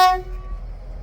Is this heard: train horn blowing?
yes